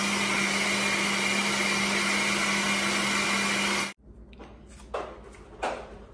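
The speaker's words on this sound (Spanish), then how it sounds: "Ahora los vamos a licuar," A blender purees red chile sauce for Guerrero-style red enchiladas with a loud, steady whirring roar for about four seconds, then cuts off abruptly, leaving quieter clatter and handling noises.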